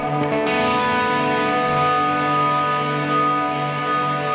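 A guitar-like tone through a guitar pedal's standard modulation effect, without the expression ramper, sustains with a wavering modulation, steady and fairly loud, with no talking.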